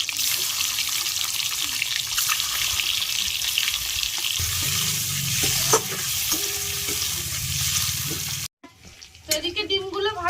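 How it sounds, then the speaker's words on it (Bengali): Eggs frying in a pan sizzle loudly and continuously, with scattered clatter and stirring knocks. The sound cuts off abruptly near the end, and brief clinks and faint background noise follow. "এদিকে ডিমগুলো ভাজা হচ্ছে"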